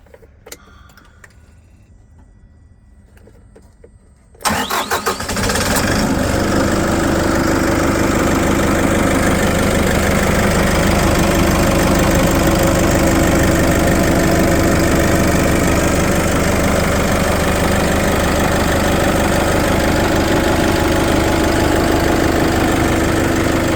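A Toyota 8FD40 diesel forklift engine cranks and fires after a few quiet seconds, then settles into a loud, steady diesel idle that runs on unchanged to the end, with no voices.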